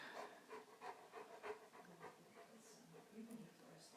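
A dog panting heavily close by, rapid rhythmic breaths repeating steadily at a low level, with a person's voice faintly present.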